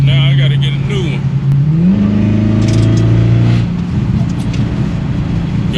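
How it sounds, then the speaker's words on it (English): A Dodge Hellcat Jailbreak with a new AWE exhaust revs nearby, a loud, deep engine roar that climbs in pitch, holds, and then drops, with someone talking over it. "Got that new AWE exhaust on there, boy. It's barking"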